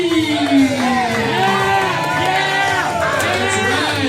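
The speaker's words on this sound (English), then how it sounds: "Let's start clapping. Let's start making some noise." A large audience at a main event cheers and shouts loudly, many voices rising and overlapping in a sustained roar with whoops on top.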